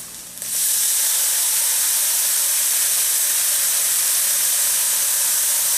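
Marsala wine hits a hot pan of stir-fried quinoa and portabella mushrooms, breaking at once into a loud, steady hiss and sizzle that stays level and close with no talking.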